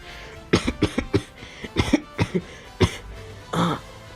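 A series of harsh coughs in quick bursts, several close together, then a pause and a final longer, rougher cough or throat clear.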